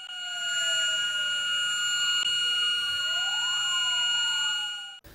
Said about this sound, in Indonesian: detik-detik proklamasi ditandai dengan suara sirine 60 detik